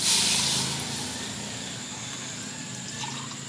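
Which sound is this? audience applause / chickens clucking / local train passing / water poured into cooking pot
water poured into cooking pot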